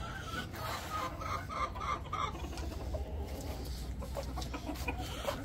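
A small hen clucking in short repeated bursts, close by, with a steady low background hum and other faint farmyard calls.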